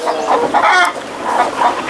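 Chickens cluck and call steadily inside a raised-floor poultry shed on a farm where birds are kept indoors during the rainy season, several birds overlapping at close range with no talk.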